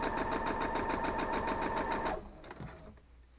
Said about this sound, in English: let's go ahead over to the sewing machine and we'll do that. Just sew all 4 of them